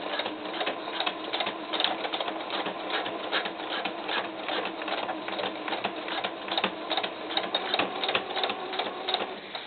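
A sewing machine runs steadily for about ten seconds, stitching a quick seam that catches elastic on a floral headband, with a fast, even mechanical patter and no talking.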